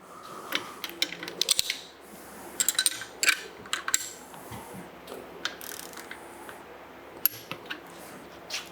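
A wrench tightens bolts on an LS wide-mount alternator-only bracket, giving bursts of close, quick ratchet clicks with metallic taps and pauses between them, no talking.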